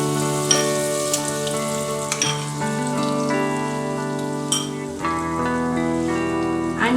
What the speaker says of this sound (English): For making white sauce, I'm putting in 3 tablespoons of butter,